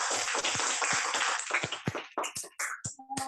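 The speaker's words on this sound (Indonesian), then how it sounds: "Kasih tepuk tangan." Students in a primary school class clap their hands together during a lesson held over Zoom, a dense burst of applause that thins into a few scattered claps and fades out.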